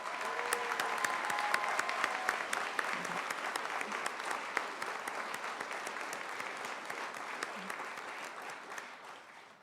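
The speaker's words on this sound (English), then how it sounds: "Let's give our graduates one more round of applause." Audience at a spring community college commencement ceremony applauds the graduates, a sustained, dense round of clapping filling the hall for nearly ten seconds and slowly tapering at the end.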